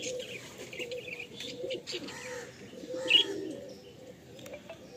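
Pigeons coo softly at close range, low throaty calls repeating with a few chirps and a faint flutter mixed in, quiet against a calm backdrop.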